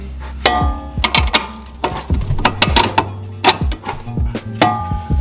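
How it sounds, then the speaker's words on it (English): A ratchet tightens a coilover bolt on an Audi S4, its pawl clicking in short quick bursts with brief pauses between strokes, close and clear with no one talking. "now let's go ahead and get that bolt back in"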